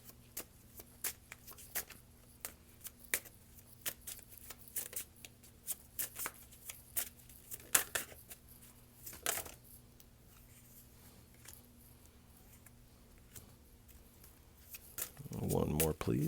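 Tarot cards shuffled by hand for a reading, a series of quick riffling flicks and soft slaps spread through the stretch, with a louder shuffle burst near the end and a person speaking quietly.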